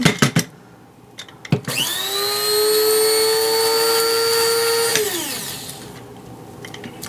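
An electric spice grinder whirs loudly as it grinds freeze-dried cilantro, a steady high motor whine lasting about three seconds that winds down at the end, preceded by a few short clicks and knocks.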